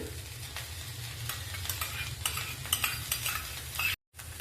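A spoon stirs yogurt into fried gram flour (besan) in a pan for an onion-stalk curry, giving steady scraping and soft sizzling throughout, close and alone, with a brief dropout near the end.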